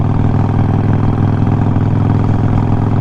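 A 2008 Harley motorcycle engine with stage 3 cams runs steadily at idle, a loud, close, lumpy low rumble with a shaky, uneven pulse throughout.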